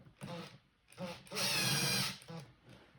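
A power drill runs in short bursts, driving screws while mounting a 12-foot skeleton prop with a two-axis jaw mechanism; three or four close, loud whirring runs, the longest about a second, with quiet handling between.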